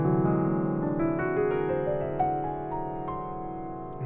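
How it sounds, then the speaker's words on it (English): A piano runs through the C whole tone scale, each note overlapping the last in a sustained wash, played smoothly and evenly at a moderate level without any voice. "that was the C whole tone scale"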